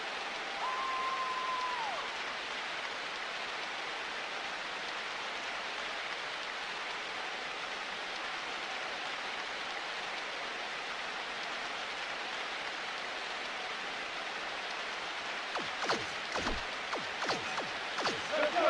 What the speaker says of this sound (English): Wow, the ball's getting awfully slippery in this downpour, Dan.